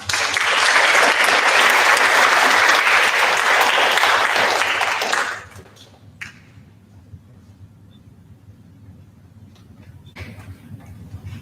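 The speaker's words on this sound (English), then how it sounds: "let's give a round of applause for all of our inductees." Loud, sustained applause from an audience at a middle school National Junior Honor Society induction ceremony, about five seconds of steady clapping that stops abruptly, leaving a quiet room with faint rustling.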